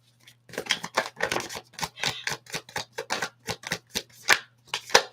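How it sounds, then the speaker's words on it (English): Tarot cards are shuffled in crisp repeated riffles and flicks, about a dozen close, sharp bursts in an uneven rhythm, with no talking over them. "Let's just shuffle some more."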